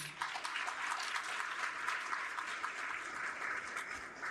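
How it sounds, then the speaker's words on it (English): At the 47th annual Black Achievers award celebration, a banquet audience gives steady, dense applause that holds at an even level throughout and sounds somewhat distant. "Everybody give yourself a round of applause"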